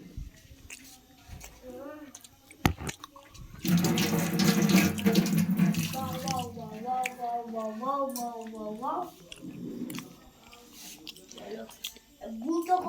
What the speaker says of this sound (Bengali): আমরা ঠান্ডা জলে স্নান করছি।